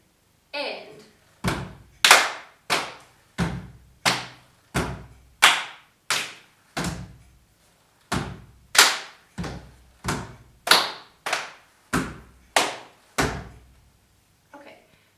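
Loud, close hand claps ring out one after another in a steady, paced rhythm, about twenty sharp claps with short pauses between groups and no other sound.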